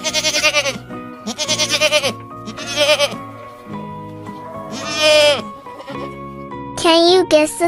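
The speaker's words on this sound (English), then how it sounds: "Goat." A goat bleats loudly several times in wavering, nasal cries with short pauses between, close and clear.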